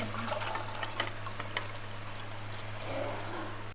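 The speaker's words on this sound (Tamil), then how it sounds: "இப்ப இந்த தண்ணியோடவே நம்ம இதெல்லாம் குக்கர்ல சேர்த்துடலாம்." Water pours steadily into a pressure cooker with a continuous splashing rush, close by, over a low steady hum.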